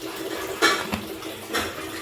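Water poured from a vessel into a pressure cooker holding lentils for dal in a home kitchen, a few soft splashing gushes close by, with no one talking.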